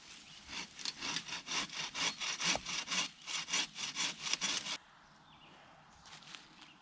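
A hand saw rasps through wood in quick, regular back-and-forth strokes, loud and close, then stops abruptly, leaving faint background noise.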